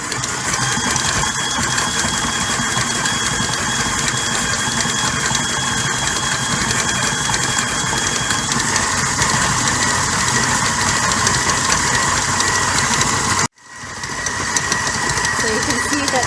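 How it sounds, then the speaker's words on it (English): A stand mixer beats unsalted butter and sugar for tart dough, a steady loud mechanical whir with a rattling motor tone that runs continuously, then cuts out abruptly near the end and restarts. "So we're just putting that in the mixer, and we're going to mix it until smooth."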